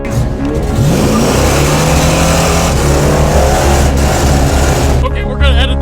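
A supercharged 1968 Dodge Charger, smoking from the breather, roars loudly and close as it accelerates in a race, the engine note rising and shifting before easing near the end, with a voice talking over it.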